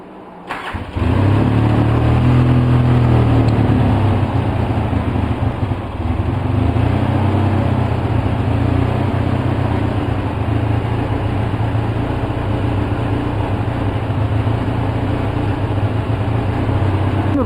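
A 2004 Polaris Sportsman 700 ATV engine with a faulty carburetor boot starts and runs on choke, settling into a loud, uneven rough idle that wavers steadily close by with no talking.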